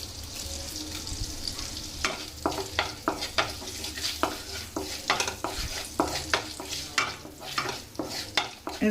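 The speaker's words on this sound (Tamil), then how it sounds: "இது கொஞ்சம் லைட்டாக வறுபட்டால் போதும்" Cinnamon, cloves and a bay leaf frying lightly in hot oil for paneer butter masala, with a steady soft sizzle and a spoon scraping and stirring the pan in quick repeated strokes, no voices.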